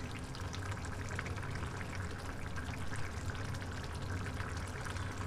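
Bitter gourd gojju boils steadily in a pan, a dense continuous bubbling and simmering hiss that stays even and close throughout with no talk.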